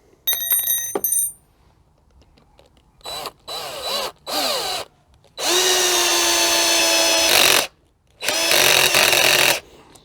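A Lidl Parkside cordless impact driver drives a long 100 mm screw with a T30 bit in several separate bursts. The sharp, high whine of the motor starts and stops with short silences between, the longest run lasting about two seconds.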